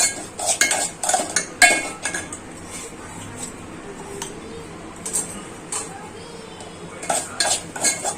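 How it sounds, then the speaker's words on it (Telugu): Semolina (rava) stirred and dry-frying in ghee in a pan, with repeated close scrapes and clinks of a metal spoon against the pan in bursts over a faint low sizzle, no talking. "రవ్వ వేసుకొని మనం ఫ్రై చేసుకోవాలన్నమాట"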